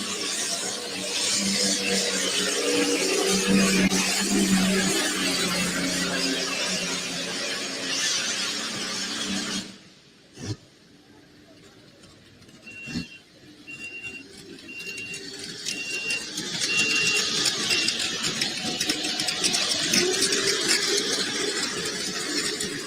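A 1,710 cubic inch D12 Allison aircraft engine in a big modified tractor at an evening tractor pull in Nebraska roars loud and steady, cuts out briefly near the middle, then builds back to a sustained full-throttle drone.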